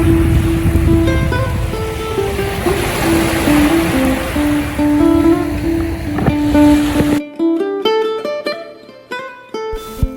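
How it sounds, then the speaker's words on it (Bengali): Roaring sea waves surge as a steady, loud wash of surf for about seven seconds with music playing over them, then the surf cuts out and only the music continues. "আপনাদেরকে দেখাবো সমুদ্রের আওয়াজটা"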